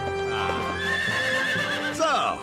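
A cartoon horse whinnies loudly with a rising then falling neigh near the end, preceded by a steady rhythmic clip-clop of hooves, all close and clear without talk.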